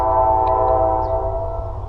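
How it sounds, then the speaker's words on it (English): A train passes close by in Ohio, its loud, sustained horn blaring over a low rumbling roar that slowly eases off. "Train's going by."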